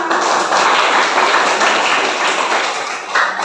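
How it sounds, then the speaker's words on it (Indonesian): A classroom group applauds after a presentation, a loud, dense wash of clapping hands that swells and eases over a few seconds. "Tepuk tangan dulu"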